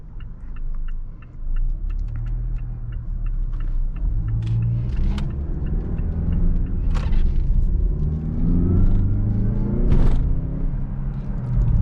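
A 2017 Mazda CX-9 with a turbocharged 2.5-liter four-cylinder engine accelerates from a right turn, a steady low engine rumble and road noise building continuously and fairly loud throughout, with no talking.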